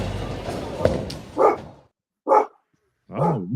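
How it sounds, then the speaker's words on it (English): A dog indoors barks three times, the first bark muffled under a short stretch of other sound, then two clear separate barks with pauses of silence between them. "Oh, we must have a doggy in the house."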